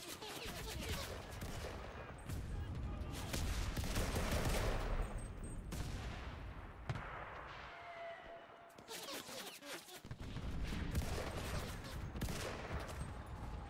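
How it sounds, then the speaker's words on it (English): Dense, sustained gunfire from the World War II shooter Enlisted, with rattling bursts and explosions filling the mix, briefly dropping away before resuming, while someone talks over it. "See how we're getting shot at?"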